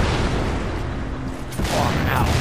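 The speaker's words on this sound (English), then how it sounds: "Damn it, I'm shooting now." Video game gunfire comes as dense, noisy bursts of shots, with a sharper blast near the middle and then a continuing rumble of fire.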